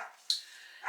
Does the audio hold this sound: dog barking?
yes